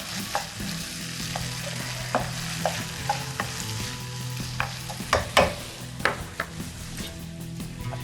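Onion fries with minced meat for a beef loaf in a pan, making a steady sizzle under repeated scraping and clinking stir strokes that grow louder and busier toward the end, with a low hum beneath and no speech.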